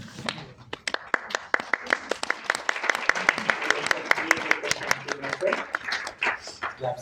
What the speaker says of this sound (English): Claps are for you.